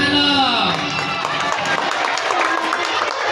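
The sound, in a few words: audience applauding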